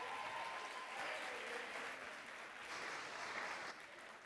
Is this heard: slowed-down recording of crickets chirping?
no